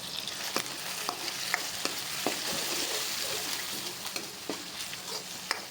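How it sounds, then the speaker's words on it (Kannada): Chicken sukka frying with garam masala in a pan: a constant sizzle under regular, sharp scraping strokes of a spoon stirring at a steady rhythm, close and clear. "1 ಚಮಚ ಗರಂ ಮಸಾಲ ಪೌಡ್ರು ಹಾಕ್ಕೊಂಡು ಚೆನ್ನಾಗಿ ಬಾಡಿಸ್ಕೊತಾ ಇದ್ದೀನಿ"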